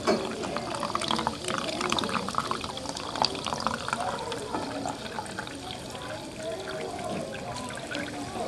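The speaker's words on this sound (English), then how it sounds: "I have to put soda in, then I have to put raisins in and watch them dance" Soda poured into a glass for a dancing raisins experiment gives a continuous fizzing, splashing pour with scattered crackles of bursting bubbles. The sound stays fairly quiet and steady throughout.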